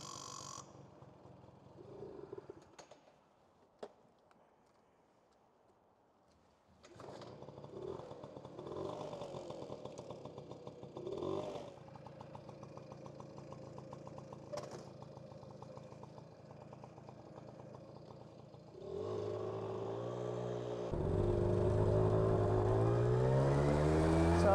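A 1982 Honda Motocompo scooter's small engine runs, quiet at first and then louder and steadier, rising in pitch as it accelerates uphill toward the end, close by with no talk.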